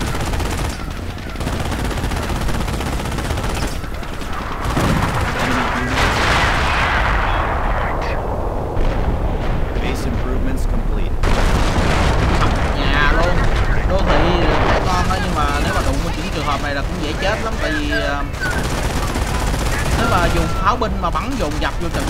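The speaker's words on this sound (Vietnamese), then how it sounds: "Đây, pháo binh dập luôn quê rồi." Artillery barrage and gunfire in the video game Company of Heroes: repeated heavy booming blasts with rattling shots, loud and continuous, layered over game effects with someone talking throughout.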